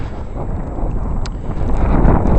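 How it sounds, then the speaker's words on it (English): Gusting wind roars during a nighttime snowstorm, a dense, steady rush with wind buffeting the microphone and building slightly louder toward the end. "Winds are gusting to around 20-25 miles per hour."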